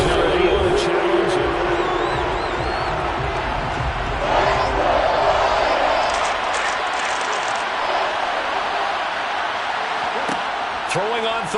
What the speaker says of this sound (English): Plenty of shouts from this crowd as they watch the challenge.